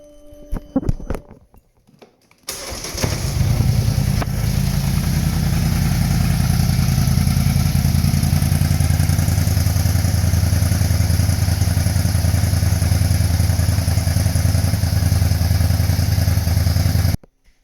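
After a brief clatter of starting, a Polaris Scrambler ATV engine with OEM dual exhaust from the 1000 settles into a steady, loud, throaty idle that runs evenly until it cuts off.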